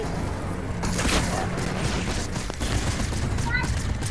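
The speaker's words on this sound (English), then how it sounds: "I'm getting shot at" Gunfire in the Fortnite video game comes in dense bursts of shots over a busy game soundscape, with a voice mixed in.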